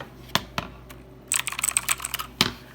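Typing on a Redragon K552 Kumara mechanical keyboard, with a few separate loud clacks followed by a quick burst of rapid, clicky keystrokes, close and with no talk over it.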